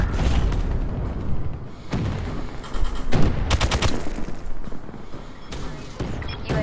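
Rapid gunfire in a video game, loud bursts of shots and booms crackling over a noisy background, several volleys in quick succession with no talking.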